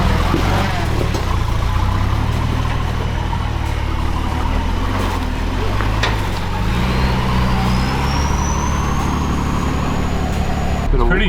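A 4WD vehicle's engine drones steadily at low pitch as it crawls into a rock garden on a tough off-road track, loud and continuous throughout, with a rising whine near the end.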